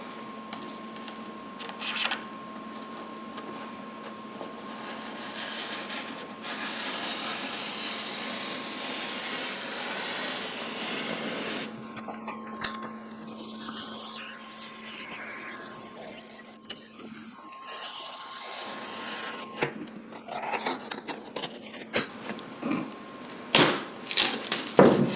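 An oscillating-type blade cuts along a tub flange on backer board with a sustained buzzing grind, broken by pauses and repeated short passes, fairly faint and close.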